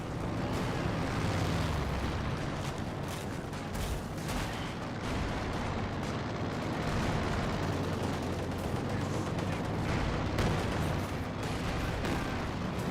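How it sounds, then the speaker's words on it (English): Katyusha rocket barrage pounding a battlefield in Company of Heroes 2, a dense, continuous rumble of overlapping blasts and gunfire, fairly distant and muffled, rolling on without pause and without talk. "Katusha Barrage will roll some misses there"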